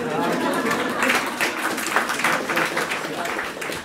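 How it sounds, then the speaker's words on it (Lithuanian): A theatre audience applauds after a reading, a crowded burst of clapping with uneven swells of individual claps, steady throughout and tapering slightly at the end. "Aplodismentai"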